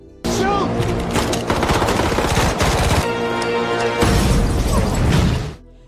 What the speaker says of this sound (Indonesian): ia pun melempar asap serta satu granat